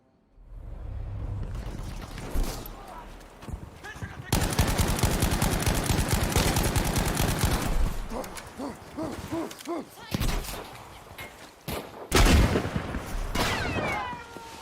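MMG machine gun hip-fired in Battlefield 5 multiplayer, long sustained bursts of rapid automatic fire interrupted by short pauses and distant battle noise, with a voice talking over parts of it.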